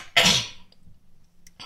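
A single sharp, loud cough up close, a brief explosive burst followed by faint breathy noises and quiet throat sounds.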